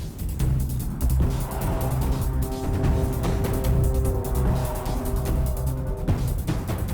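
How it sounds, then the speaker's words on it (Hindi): A car engine runs and rolls in close by with a steady low rumble and a faint tire squeal near the end, set in a tense action-movie scene with no talking. "रामास्वामी की गाड़ी आ गई।"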